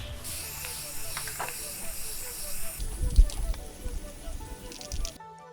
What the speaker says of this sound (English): I'm about to spray this other side as well